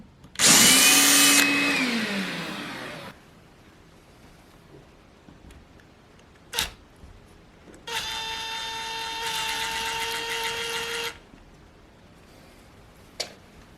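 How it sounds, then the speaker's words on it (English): A power drill whirs for about three seconds, rising in pitch, drilling a small pilot hole in a wall, then stops; later, another steady mechanical whine runs for several seconds with two sharp clicks. "I'm going to just drill a small pilot hole."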